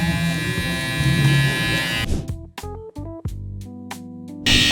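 A hair clipper fitted with a half guard buzzes loudly and close, its steady drone cutting out and restarting in short bursts as the lever is flicked up and closed.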